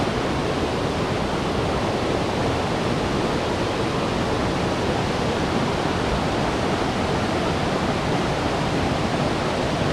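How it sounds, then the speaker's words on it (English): A waterfall near Taggart Lake in Grand Teton National Park roars steadily and close by, a loud, unbroken rush of falling water with no voices over it. "Found this wicked waterfall though, check this out."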